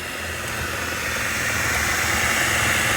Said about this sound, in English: We don't have a fancy stand mixer, so we're just using a handheld one.